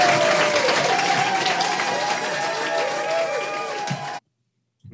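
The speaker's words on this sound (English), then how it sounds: "We just wanted you to hear that applause for you" A crowd breaks into sustained applause and cheering after a comedy set, with loud dense clapping and raised voices for about four seconds before it cuts off abruptly to silence.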